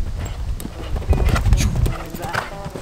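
Horse hooves clip-clop loudly and close during a horseback ride, a quick uneven run of thuds and knocks with breathy movement noise around them.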